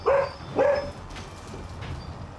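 Two short barks from dogs at a distance, sounding roughly half a second apart, followed by quiet background ambience with a faint hiss.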